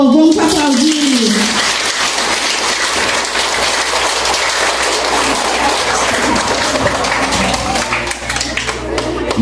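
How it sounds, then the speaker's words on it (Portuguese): School assembly audience gives sustained applause for the municipal school director, dense steady clapping from many hands filling the space, a low hum underneath, loud throughout. "Salva para o professor, vamos aplaudir."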